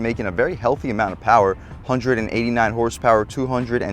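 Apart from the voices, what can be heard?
None of the usual background noises is heard.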